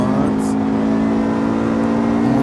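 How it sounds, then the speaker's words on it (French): Steady, loud engine drone of a BMW E90 accelerating in the Assetto Corsa Evo racing game, a continuous tonal whine holding high revs throughout. "Alors là, c'est vrai que je peux accélérer"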